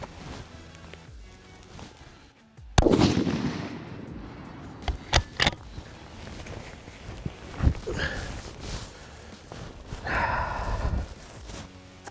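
Springfield Armory Waypoint .308 rifle fires on a wet outdoor range: one sharp loud report, then several shorter cracks and thumps spread through the following seconds.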